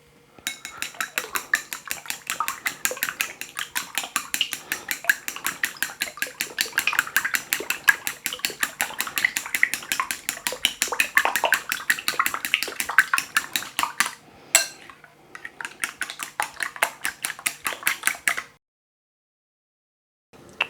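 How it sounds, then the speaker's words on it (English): Six eggs whisked briskly in a bowl, a fast continuous run of metallic clicking and tapping against the sides for about eighteen seconds, a short pause midway, close up with no voices. "Time to whisk the eggs."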